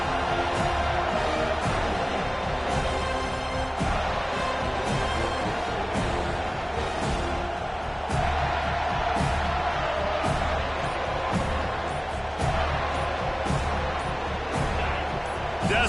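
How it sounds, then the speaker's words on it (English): A football stadium crowd roars on third down, a dense, sustained wall of cheering and noise with scattered claps and thuds, building steadily, with talk over it. "Decibels rising as the crowd gets behind this defense on 3rd down"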